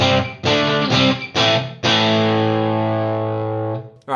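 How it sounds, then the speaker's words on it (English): An electric guitar plays through a crunchier Headrush Gigboard amp model, with four quick strummed chords followed by one long sustained chord that rings for nearly two seconds, loud and close with no voices. "let's make it a little bit more crunchy"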